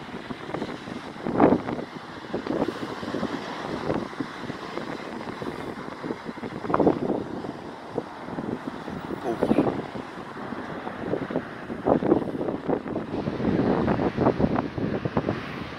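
Steady wind buffeting a microphone outdoors at an airport, with broad rumbling gusts rising and falling continuously throughout, loud and close.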